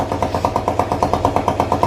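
A Viper V250CR-5 motorcycle, a 250 cc bike with about 8,050 km on it and reported in good condition, runs close by with a loud, steady, rapid pulsing engine note and no talking.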